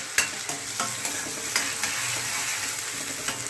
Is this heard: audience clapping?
no